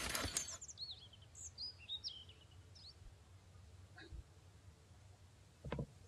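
Small birds chirp in short, faint, high-pitched phrases across a quiet outdoor scene in the survival game Mist Survival, with a few soft clicks and thuds nearby.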